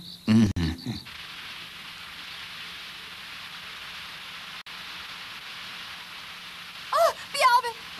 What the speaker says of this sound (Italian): Oh, piove! Piove! Sta piovendo!